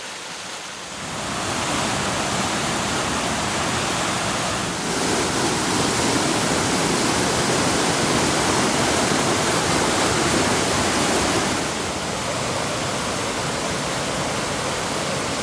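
Water rushes steadily over rocks along a mountain hiking trail in Grayson Highlands, a dense, continuous hiss that holds loud and unbroken from start to finish.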